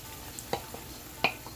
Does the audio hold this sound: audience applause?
no